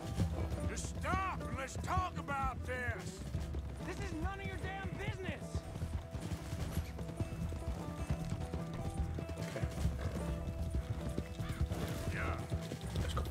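Rhythmic hoofbeats of a galloping horse with a whinny in Red Dead Redemption 2, mixed with mechanical clatter and voices talking over it.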